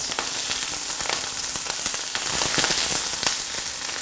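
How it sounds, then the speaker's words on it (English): Hot oil frying food for a beef stew and spring greens meal, a dense, even sizzle with crackling pops throughout, close and steady, with no talking. "make sure the oil is hot enough to fry them off"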